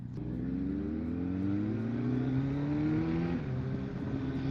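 A Kawasaki ZX-10R sport motorcycle engine revs up steadily, its pitch climbing over a few seconds, then drops briefly and climbs again. It sounds close and continuous with no talking.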